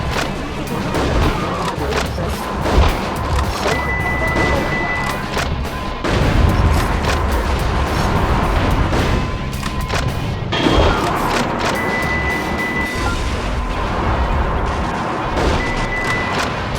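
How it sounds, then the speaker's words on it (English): Repeated booming tank cannon fire and explosions in the video game Metal Wolf Chaos XD rumble amid continuous battle noise, with alarm-like beeps cutting through the dense, loud mix. "Who's that tank shooting at?"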